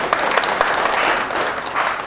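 A lecture audience at the opening of Left Forum 2013 breaks into loud, close applause: a dense patter of many hands with sharp individual claps throughout, no talking.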